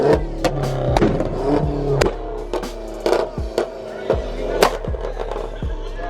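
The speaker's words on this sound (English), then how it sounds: "That was the loudest car I've ever heard." At a car meet, an extremely loud car fires a rapid series of sharp pops and bangs from its exhaust over a revving engine, close and punchy, with irregular bursts throughout.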